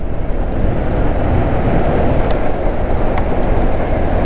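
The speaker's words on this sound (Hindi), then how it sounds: "तेज़ हवा चल रही है" Strong wind roars into the microphone while riding a scooter along the NH 348A highway from Mumbai to Uran, a loud, steady buffeting rush that continues with no talking.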